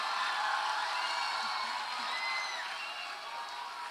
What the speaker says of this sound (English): Please make a big round of applause for yourself.